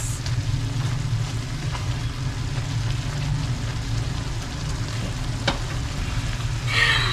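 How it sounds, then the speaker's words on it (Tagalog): Tomatoes sautéing in a pan for ginisang papait, a steady, loud broadband sizzle that runs unbroken throughout with faint stirring clicks, no voices. "Lulutuin natin ng maigi yung kamatis"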